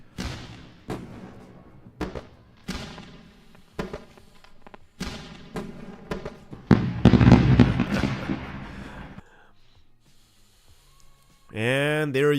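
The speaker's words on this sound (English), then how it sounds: "Let's go for the fireworks." A fireworks sound effect played on a live trading stream: a run of sharp bangs and crackling bursts at irregular spacing, swelling into a dense loud crackle, then fading to near quiet before a whistling rise at the end.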